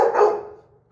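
A dog gives a single sharp, loud bark on command, close by, that quickly trails off into a short fading tail.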